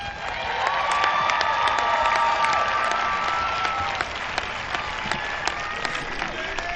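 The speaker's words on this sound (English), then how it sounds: "please stand up so we can give you a round of applause" Sustained audience applause with some cheering fills a high school commencement ceremony, loud and steady throughout, with scattered claps standing out near the end.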